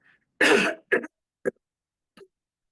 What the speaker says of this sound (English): I've got a little bit of a cough.